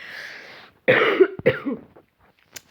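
A single loud, rough cough in two harsh bursts, close and dry, following a brief breathy noise and trailing into quiet.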